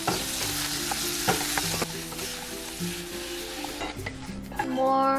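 Meat searing in a tablespoon of butter in a hot pan, a steady close sizzle and crackle throughout with occasional scrape and stir sounds, growing louder near the end.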